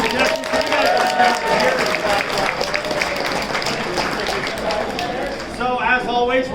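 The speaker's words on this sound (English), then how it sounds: "Let's give a big round of applause for our big contestants" Lively audience applause and cheering for contestants at an anime game show at a convention, dense clapping sustained at a loud level across the room, with some voices mixed in near the end.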